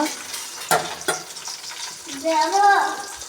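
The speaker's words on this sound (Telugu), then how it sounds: "ఇప్పుడు ఇవి నూనెలో బాగా ఫ్రై అవ్వాలండి" Green chilies sizzle and crackle steadily in oil in a pan, with a couple of sharp clatters and a voice talking briefly over the frying.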